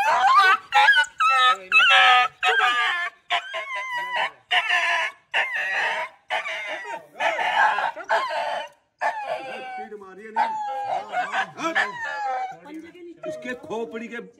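A dog barks and yelps in short, loud bursts, mixed with a rooster crowing and hens clucking close by, while people talk over the commotion.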